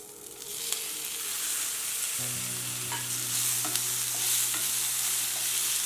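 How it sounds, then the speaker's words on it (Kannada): Onion and two medium tomatoes frying in a pan give a steady, close broadband sizzle with a few stirring scrapes and a low hum partway through; no one speaks. "ಈರುಳ್ಳಿ ಸ್ವಲ್ಪ ಫ್ರೈ ಆಗಲಿ"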